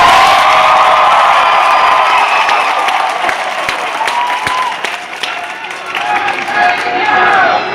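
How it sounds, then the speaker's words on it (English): A large political rally crowd at Taco Bell Arena in Boise, Idaho, cheering, whistling and applauding loudly, a dense sustained roar that dips briefly midway before swelling again. "What an enormous crowd here in Boise."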